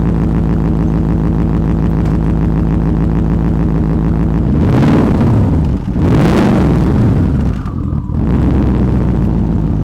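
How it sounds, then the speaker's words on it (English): Loud, steady engine exhaust drones throughout, with the revs swelling briefly twice before settling back to a rumbling idle. "Hopefully you can hear me over the exhaust"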